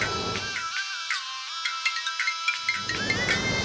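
A mobile phone ringtone plays a melodic series of clear electronic tones, loud and close, over a low murmur that drops out while the tune rings alone.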